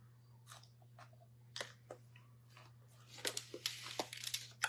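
Cooked green beans are bitten and chewed up close, with quiet, irregular crunching that grows denser and louder toward the end over a low steady hum.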